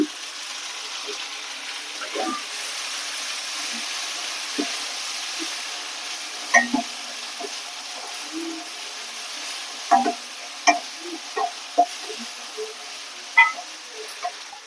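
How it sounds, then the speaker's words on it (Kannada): Chopped tomatoes fry in ginger garlic paste for a brinjal masala, giving a soft steady sizzle under occasional sharp clinks and scrapes of a spoon stirring the pan. "ಇವಾಗ ಕಟ್ ಮಾಡಿಕೊಂಡಿರೋ ಟೊಮಾಟೊ ಹಾಕೊಂಡು ಫ್ರೈ ಮಾಡ್ಕೊಳ್ಳೋಣ"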